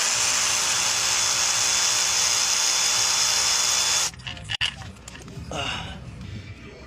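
A power tool whirs steadily and loudly while pulling the starter bolts during a transmission swap, then cuts off abruptly, leaving scattered clanks and handling noises.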